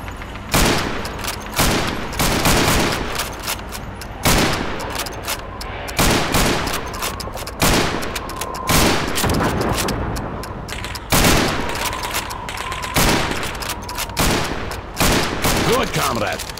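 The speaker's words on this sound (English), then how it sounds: "You have 15 seconds to shoot the helmets." Call of Duty 2 rifle fire at a training range shooting helmets against the clock, a steady series of sharp, loud shots spaced roughly a second apart with brief pauses between them.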